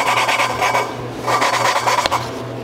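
A valve is lapped by hand into its seat on a 9.33 cylinder head, giving a close, continuous gritty rasping that scrubs back and forth in short repeated strokes.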